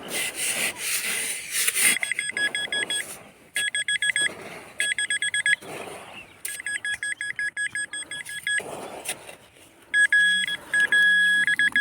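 Electronic beeping tones from a metal detector pulse in repeated bursts of varying length, with rustling and scraping noises between them, while searching around a playground and beach.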